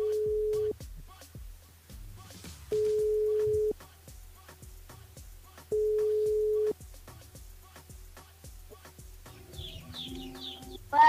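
Telephone ringback tone heard while a radio show calls a listener back: three long steady beeps at regular intervals with quiet gaps, close and clear, followed by faint chirpy sounds at the end.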